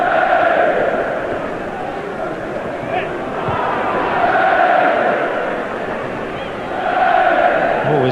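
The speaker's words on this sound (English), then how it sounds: "Leeds supporters cheering every pass." Leeds United supporters in a packed stadium at Sheffield Wednesday in 1999 keep up a continuous crowd roar that swells and fades in waves, heard from a distance under a commentator's voice.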